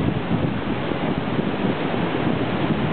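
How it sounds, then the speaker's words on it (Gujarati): Water pours through the gates of the Sardar Sarovar Dam in a steady, loud, unbroken rush that fills the whole short stretch, with no voices. "પાણી આવી રીતે અહીંયાથી પાસ ઓન થઈ અને પછી એ પાછળ જાય છે"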